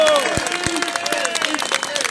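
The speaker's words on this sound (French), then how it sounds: "Vous pouvez l'applaudir." Open-air crowd applause at an anti-COVID-measures street demonstration, steady clapping with a few louder claps up close, mixed with crowd noise and some voices.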